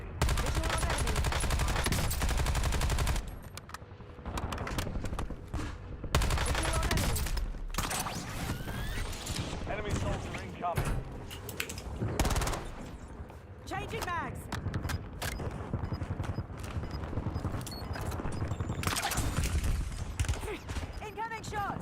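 Gunfire in a Warzone match: heavy bursts and rapid shots come in waves, loudest at the start and end, with quieter gaps between them, and voices talk throughout.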